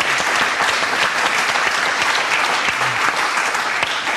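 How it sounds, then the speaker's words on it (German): Studio audience at a televised talk show breaks into sustained applause, dense and even clapping at full volume throughout with no break. "Den Applaus will ich Ihnen aber erst mal geben."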